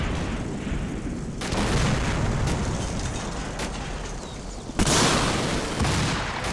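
Tank shells and gunfire aimed at a half-track in the Combat Mission: Battle for Normandy war game, heard as a continuous dense rumble of combat with a sharper blast surging up near the end.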